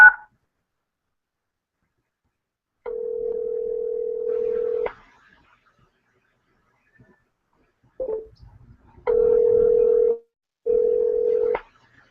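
A steady telephone tone comes through in separated stretches, two to three seconds each, clean and isolated against near silence while a call connects.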